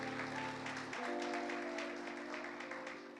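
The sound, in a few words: church congregation applauding visitors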